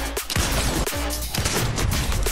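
Several loud, sharp gunshots ring out from a first-person shooter video game, spaced irregularly over dense, busy game noise.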